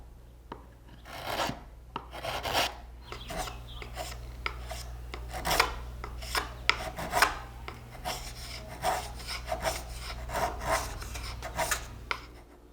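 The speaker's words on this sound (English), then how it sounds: "use a chisel to make the rough shape" A chisel rough-shapes the tapered edges of a walnut bullroarer, giving repeated close scraping and paring strokes in an irregular rhythm over a low steady hum.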